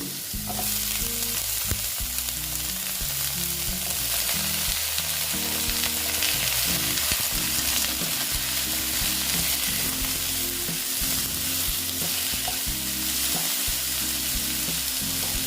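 Eggplant pieces frying in a pan for a pumpkin and mola fish sour dish give a steady, dense sizzle that runs evenly throughout, with occasional stirring scrapes and no voices.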